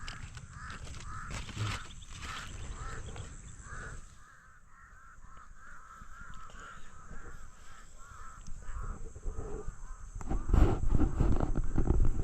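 Crows caw repeatedly nearby in a plantation, harsh calls coming in a steady series over light background noise.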